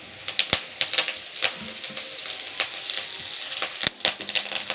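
Moringa leaves with dried chili and onion frying in hot oil make a close, steady sizzle broken by frequent sharp pops and crackles, with no talking.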